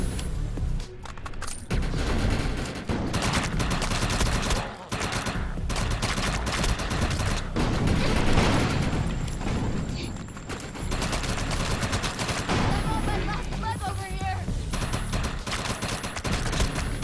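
Gunfire in the video game Defiance, dense rapid bursts of automatic shots and booms from a firefight, loud and nearly continuous with brief lulls.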